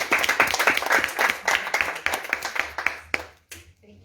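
Audience applause at a community screening, a burst of clapping hands that thins out toward the end, with a few final scattered claps.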